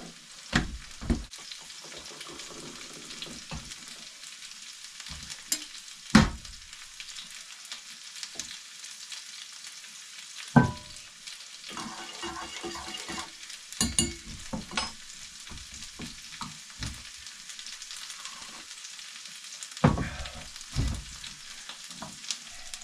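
Sausages and thick bacon fry in a pan at an off-grid cabin, a continuous crackling sizzle with sharp pops and occasional louder spatters and scrapes, close and without talk.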